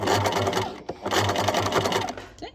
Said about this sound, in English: we're going to go 2 stitches forward, and then we're going to do a reverse stitch backwards